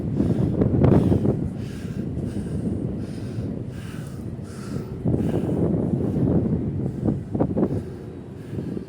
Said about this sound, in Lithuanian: vėjas irgi nemenkas